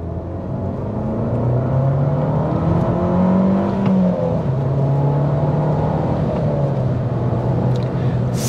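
Abarth 595 with a front-mounted transverse 1.4-litre turbo four-cylinder accelerating hard, engine note rising in pitch through the gears with brief dips at shifts, loud and close inside the cabin.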